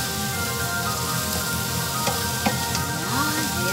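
Tomatoes, onion and garlic sautéing in oil in a pan give a steady close sizzle and crackle throughout, with a few brief stirring clatters and no talk.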